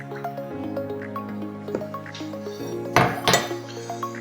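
Four cups of oil poured for a large batch of pumpkin cupcake batter, with a soft liquid trickle and drips, light clinks of dishes and utensils, and a louder clattering burst near the end, all over steady background music.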